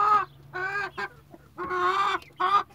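A brooding hen sitting on eggs during incubation clucks in five separate bursts of harsh, nasal calls, close and fairly loud, with short pauses between them over a low steady hum.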